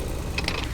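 A ratcheting wrench tightens a lug nut on the wheel of an Isuzu box truck, a short burst of clicking gear teeth over steady loud outdoor background noise.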